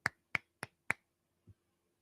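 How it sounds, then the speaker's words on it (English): Four sharp claps sound close up in a quick, uneven rhythm, followed after a pause by a softer, duller fifth hit, with hands wearing scrunchies. "Jake clapping with the scrunchies"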